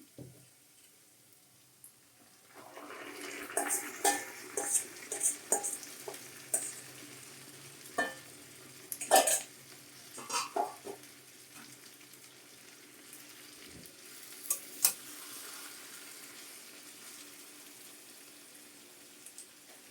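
Marinated chicken goes into a pan of golden-brown fried onions and is stirred, soft sizzling with scattered clinks and scrapes of a spoon, fairly quiet and close.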